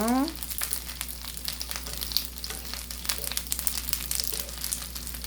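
Steady crackling sizzle of pollock fish skin frying in a very hot pan, close and continuous, with brief scraping at the start.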